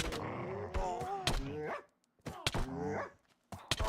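Tamed dogs in the Minecraft video game give several short, sharp barks and yips in quick bursts, close and fairly loud, with brief pauses between groups.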